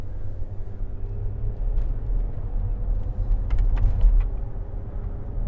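A 2012 Range Rover Sport 3.0 SD V6 HSE diesel 4x4 on the move, heard from inside the cabin as a steady low engine and road rumble with a few faint clicks and creaks, no talking.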